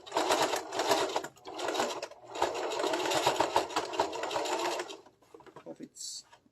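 Sewing machine stitching a turban headband, a steady rapid whirring hum in several long runs with short pauses, stopping near the end, with a person speaking over it.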